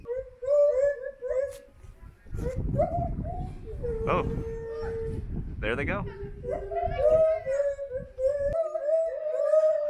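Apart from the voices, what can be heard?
howler monkeys howling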